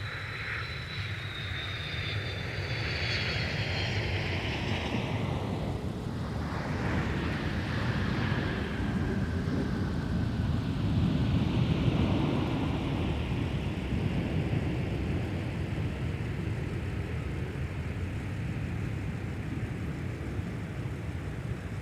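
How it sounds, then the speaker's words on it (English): A heavy Airbus jet landing at MSP airport, its engine roar sweeping past loudly with a falling whine, then a long, steady rushing rumble as it rolls on, with no talk over it. "flying a heavy Airbus to touchdown"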